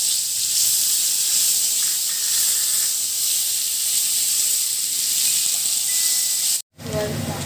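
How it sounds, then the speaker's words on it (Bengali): Onions fry in hot oil for egg biryani, giving a loud, steady close-up sizzle and hiss that carries on unbroken and cuts out briefly near the end. "পেঁয়াজটাকে ভেজে নেব"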